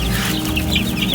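Backyard chickens in hot Arizona weather clucking, a dense overlapping chatter of soft clucks and murmurs from several birds nearby.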